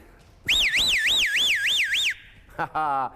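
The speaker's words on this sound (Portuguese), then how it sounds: "Ao entrar na lotérica, o alarme..." A burglar alarm goes off inside a lottery shop during a break-in. It is loud and close, with a rapidly warbling electronic whoop for about a second and a half, followed by a shorter, steadier tone.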